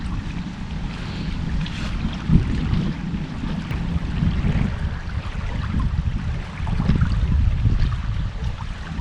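Strong wind buffets the microphone steadily at the shore while fishing, a loud, continuous roar with rougher gusts rising and falling.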